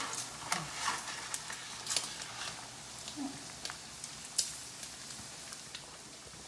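Soft crackling and popping of pancetta frying in a pan, with scattered sharp pops over a quiet background.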